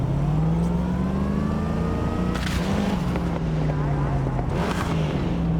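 A car engine in the video game Cyberpunk 2077 drones steadily as the car drives, with a low hum rising and falling in pitch and gusts of wind noise, loud and continuous.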